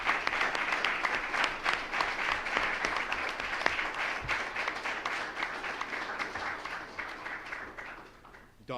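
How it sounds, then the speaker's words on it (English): Sustained audience applause at a university athletics press conference, dense steady clapping from a crowd lasting several seconds before tapering off near the end, with some talk faintly underneath. "So I ask that everybody here give a round of applause to Don Zimmerman."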